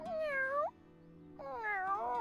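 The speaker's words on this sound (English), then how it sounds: "She looks like our little kitty cat Vlad." A cat meows twice, each a clear, drawn-out, close meow separated by a short pause, with no talking.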